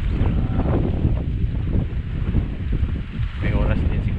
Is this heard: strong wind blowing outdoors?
yes